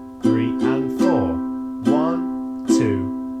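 Ukulele strummed in a repeating pattern of downstrokes and an upstroke on one held chord, five bright close strums in an uneven rhythm, played alone.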